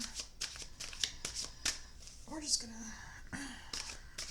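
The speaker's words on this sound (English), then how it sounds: "one more shuffle for Virgo" Rapid riffling bursts of tarot cards being shuffled, close and crisp, repeating several times with a soft voice speaking briefly in the middle.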